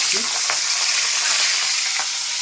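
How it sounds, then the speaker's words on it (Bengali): Hilsa fish heads frying in hot oil in a kadai give a steady, loud, close sizzle with crackling and spitting, plus a few stirring clinks throughout. "প্রথমে আমি ইলিশ মাছের মাথাগুলো ভেজে নিচ্ছি"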